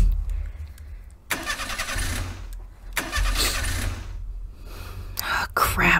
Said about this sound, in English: I'll test the engine.